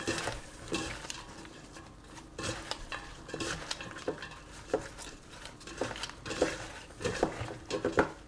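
Seasoned potato slices, salted and peppered, are stirred in a bowl for a gratin, giving irregular clattering scrapes and soft knocks of utensil against the bowl, close and fairly quiet.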